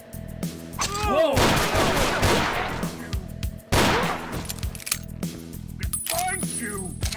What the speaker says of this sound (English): all the guns in this mod use projectiles as opposed to hit scans, so if you're far enough away from your target, you can sort of dodge bullets